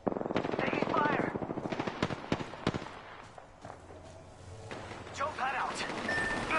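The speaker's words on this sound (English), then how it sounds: "Taking fire." Rapid automatic gunfire rattles in bursts during an Apex Legends match, loud and close at first, then thinning into scattered shots and distant firing, with game sounds layered around it.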